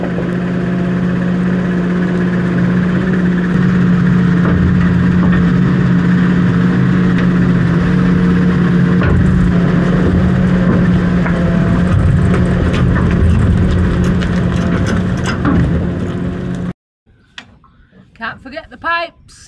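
A farm vehicle engine rumbles steadily and loudly while the silage trailer is hitched, a constant drone with voices talking over it, cutting off abruptly near the end to a quiet with a few small knocks.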